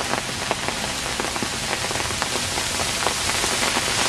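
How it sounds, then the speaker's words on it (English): A spring hailstorm in Eureka Valley, San Francisco, drops balls of ice in a dense, steady patter, with scattered sharper clicks and taps of ice striking surfaces close by. "the balls of ice raining down from the sky"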